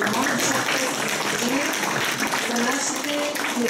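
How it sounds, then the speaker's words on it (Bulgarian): Audience applause at the official launch of a school STEM program, a dense, steady wash of clapping that stays loud throughout with some voices mixed in. "Отново вашите аплодисменти ще ви помогнат"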